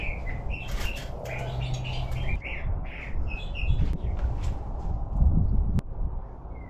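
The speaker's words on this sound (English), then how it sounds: "I'm going to kill that damn bird." A bird outdoors chirps in repeated short, high tweets spread across several seconds, moderately close over a low background rumble, with no talking.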